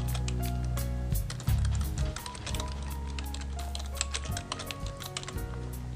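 Fast, steady typing on a computer keyboard while entering a library item's title and author into circulation software, close crisp key clicks over a low background hum with no talking.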